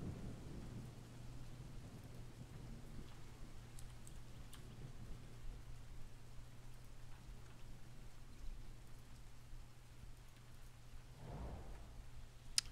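Rainy Mood ambience of falling rain, a soft continuous patter with a low rumble of distant thunder rolling in near the end.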